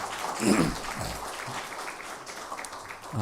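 Chapel congregation applauding to thank a university church choir after a hymn, a dense and fairly loud roll of clapping from many people that holds steady for several seconds, with faint voices mixed in.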